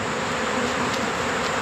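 Bees swarm around a beehive in an apiary with a steady, dense buzzing drone that stays close and constant throughout, with no voices.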